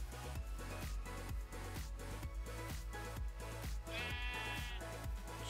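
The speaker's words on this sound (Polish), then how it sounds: "Jest tam owca." Sheep bleating in Minecraft, a short nasal bleat standing out over steady rhythmic background music with a regular thumping beat.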